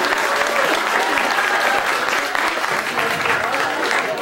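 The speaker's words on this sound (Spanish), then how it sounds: "Vamos a darle un fuerte aplauso" Loud, dense crowd applause at a birthday celebration welcoming a singer on stage, steady and sustained throughout with a continuous wash of many hands clapping.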